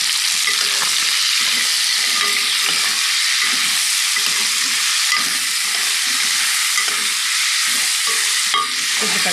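Chopped green chillies fry in a pot with other ingredients for haleem, giving a steady, loud sizzle that carries throughout, with repeated scraping and stirring knocks and no talking.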